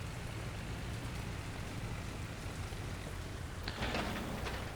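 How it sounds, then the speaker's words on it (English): Steady rain falls over a Soviet-era industrial settlement in the city-building game Workers and Resources: Soviet Republic, a dense, even hiss throughout with no voices, growing slightly brighter and louder near the end. "Are they able to keep working in the rain?"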